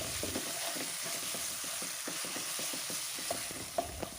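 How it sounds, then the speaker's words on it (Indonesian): Lemongrass, lime leaves, galangal and bay leaves sauté in a pan, giving a faint continuous sizzle with many soft, irregular stirring taps and scrapes, quiet and close, with no talking. "Selanjutnya masukkan serai, kemudian 2 lembar daun jeruk, lengkuas, dan 3 lembar daun salam. Tumis kembali hingga harum."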